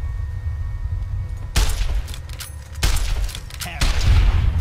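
Gunfire in Fallout: New Vegas: bursts of loud, booming shots in quick succession, separated by short lulls over a low rumbling background.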